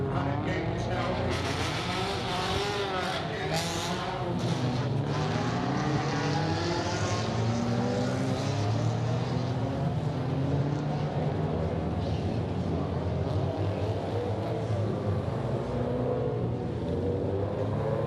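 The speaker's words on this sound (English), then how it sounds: "cars make their way out onto the circuit for the second time today" Loud race car engines roar continuously as cars pull out onto the Macau Grand Prix street circuit for practice, several revving and shifting, engine notes rising and overlapping nearby.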